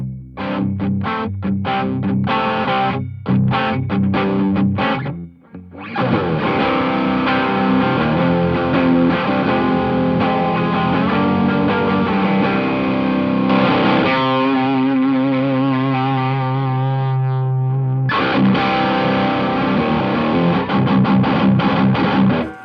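Heavily distorted drop C electric guitar through a Ceriatone Horse Breaker dual overdrive playing chugging metal riffs and sustained chords, loud and continuous with a brief pause near the start.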